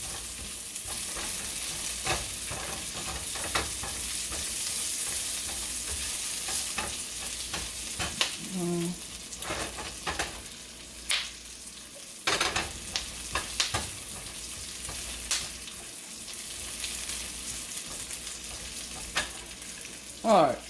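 An onion fries in a pan on a stovetop for a burger, a steady sizzle running the whole time, broken now and then by sharp scraping clicks as it is stirred.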